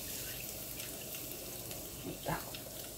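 Water from a kitchen tap rinses a saucepan, a steady close splashing hiss with a brief louder gush near the end, and a voice murmurs faintly underneath.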